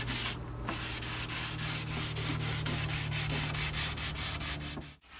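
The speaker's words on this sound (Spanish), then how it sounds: "Puedes lijar en un mismo sentido o también puedes lijar luego de haber dado un sentido en sentido contrario." Hand sanding of melamine scrapes back and forth in quick, regular strokes, close and steady, with a low hum underneath and no talking.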